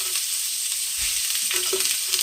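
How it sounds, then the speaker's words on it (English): Garlic sautés in a pan, a bright steady sizzle with a few small crackles and stirring sounds, close and fairly loud, with no talking. "we're just going to saute that till it's nice and glistening"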